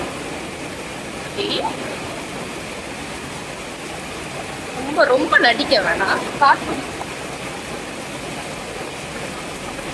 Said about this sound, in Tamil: அதனால மழை வந்துடுச்சு.